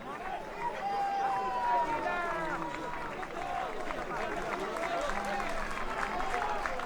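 A home crowd applauds players at a Masainas football match, a moderate, distant patter of clapping mixed with crowd noise and a voice speaking over it throughout.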